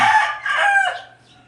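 A rooster on a poultry farm gives one loud, close crow in two rising and falling parts that fades at the end.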